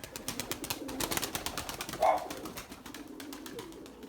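Young Beyaz Candır pigeons flap and clap their wings in flight while soft coos come and go, with a brief stronger call near the middle against an outdoor background.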